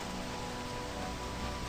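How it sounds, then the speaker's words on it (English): Steady hiss of heavy rain pouring down in a horror video game, its dense broadband wash resembling the static of untuned CRT televisions, continuous and even with no voices. "the rain beating down sounding like the static from untuned CRT televisions"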